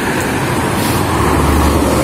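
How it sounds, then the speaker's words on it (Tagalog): Steady, loud roar of passing road traffic on a Hong Kong street near the Zoological and Botanical Gardens, a continuous wash of engine and tire noise with no talking. "May sasakyan."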